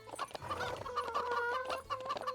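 Chickens in the video game Rivershine clucking repeatedly in short rhythmic bursts, steady and moderately loud, with no talk over them.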